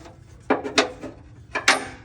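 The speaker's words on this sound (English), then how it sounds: "We take the nut first and push it up and drop it in the hole." Small metallic clicks and scrapes as a nut is pushed up and dropped into a blind hole, four short close knocks in two quick pairs.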